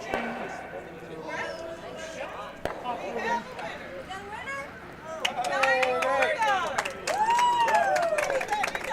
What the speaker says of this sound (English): clapping in the background, that's the 50-50 winner